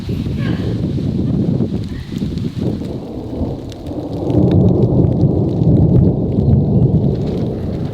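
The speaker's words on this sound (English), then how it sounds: "You can hear the thunder" Low rumbling thunder rolls beneath steady rain, swelling louder midway and then easing back.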